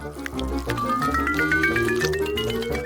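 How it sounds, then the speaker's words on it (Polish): Red paint is poured into a shower head, a steady liquid gurgle with a rising, filling tone that climbs over nearly three seconds, loud and close, with no voices. "A gdyby tak wlać czerwoną farbę bezpośrednio do słuchawki prysznica?"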